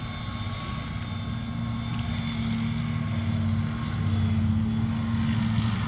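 A Scorpion tracked reconnaissance vehicle engine runs steadily at a museum, a loud, continuous droning rumble with a strong low hum and a faint high whine, swelling slightly toward the end, with no speech.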